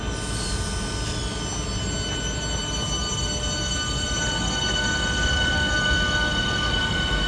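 A Southeastern passenger train at Waterloo East station in London rumbles continuously with a low, steady roar, while faint high-pitched tonal whines and wheel squeals run above it.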